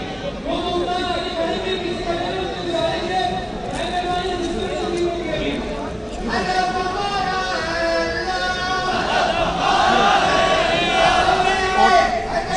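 Large crowd at a convention in Lahore chanting slogans in unison, a loud, continuous roar of many voices rising and falling in rhythmic waves, close and dense.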